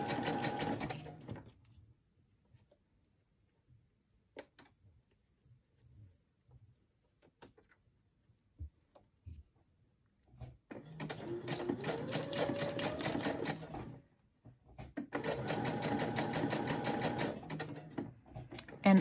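A sewing machine stitches through paper book pages for pockets and tucks: two steady, rapid runs of needle chatter come after a long quiet stretch with faint handling noises.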